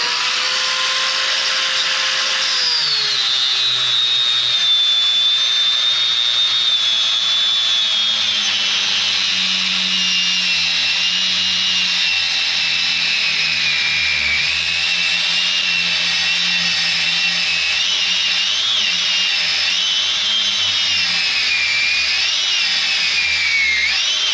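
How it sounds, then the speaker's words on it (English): A power grinder working on metal on a truck's rear leaf spring, with a loud continuous high whine that shifts pitch as the load changes and holds steady and close throughout. "Obviously you don't want to grind down into your spring, so you just go as far as you need to go"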